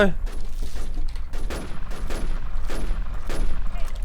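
Rapid bursts of gunfire in a Thai shooter video game, several quick volleys of sharp shots in clusters, loud and close, with a voice talking over parts of it.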